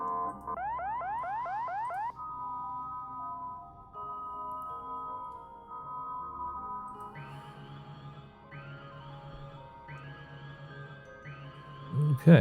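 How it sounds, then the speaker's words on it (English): Klaxon alarms in the space-building game Stationeers cycle through several distinct patterns: a rapid rising warble, then steady tones, then repeated rising whoops, loud and alone with no talk. "Okay, different alarm sounds."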